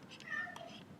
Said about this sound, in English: I don't know if you can hear my cat, but she's like running around and making noises right now.